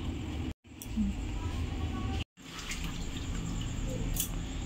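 Chicken meat is washed in water, giving a faint, continuous splashing and trickling broken by two short silent gaps, with light clinks and sloshes scattered through it.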